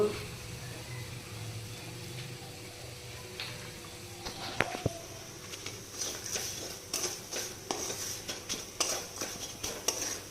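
Upma being stirred and fried in a pan, a low background sizzle that gives way to a run of quick metallic scrapes and taps of a spoon against the pan, close and fairly quiet, with no talking.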